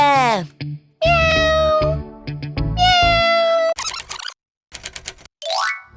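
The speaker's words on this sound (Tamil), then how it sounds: "இங்க பாரு பூனைக்குட்டி இங்க இங்க" A kitten in a children's animated story meows several times, with high drawn-out cries that alternate with speech, alongside dense spoken narration and clicky cartoon effects.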